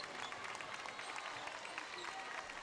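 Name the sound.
basketball fans cheering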